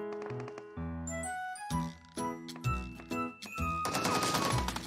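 Rapid bursts of gunfire in the mobile battle royale Peacekeeper Elite, quick sharp cracks firing in clusters with metallic ringing tones over game music, fairly close and loud.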